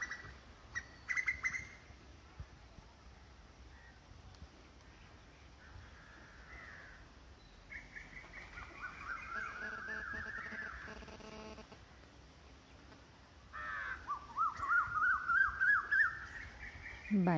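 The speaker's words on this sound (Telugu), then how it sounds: "పక్షులు శబ్దాలు అయితే వినిపిస్తున్నాయి మా ఇంటి బయట" Crows caw and other birds chirp outside a house, the calls scattered and fairly distant, rising into several rapid caw series against a quiet background.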